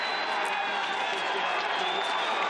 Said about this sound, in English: Crowd likes the look of that.